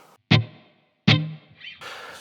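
Two strummed electric guitar chords through a Blackstar Amped 1 set to plate reverb, each sharp attack fading into a smooth shimmering tail, followed by softer noisy string and pick scrapes at the end.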